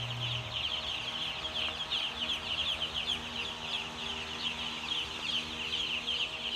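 A dense, continuous chorus of high peeping from about 38,000 two-day-old chicks fills a chicken house, steady and unbroken throughout.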